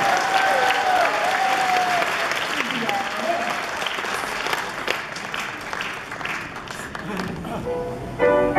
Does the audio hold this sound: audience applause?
yes